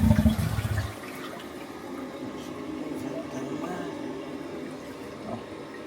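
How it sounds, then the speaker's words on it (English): A leaking household toilet is flushed, giving a loud rushing gush in the first second, then a quieter, steady trickle and hiss as the tank refills. "Let's flush, see what happens."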